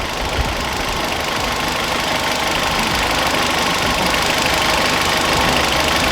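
A VW GTI engine idles steadily and loudly, a dense, continuous mechanical drone with a faint knocking texture and no voices over it.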